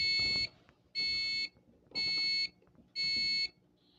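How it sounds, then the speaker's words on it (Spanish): An automatic pet feeder's low-food alarm beeps in four evenly spaced half-second bursts, loud and shrill, with faint clatter underneath. "y empieza a sonar una alarma por 10 segundos"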